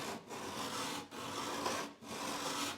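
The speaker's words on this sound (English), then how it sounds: "Here's the sound of proper filing." Metal file biting properly along a snowboard's steel edge, three long even rasping strokes separated by short pauses, close and clear with no talking.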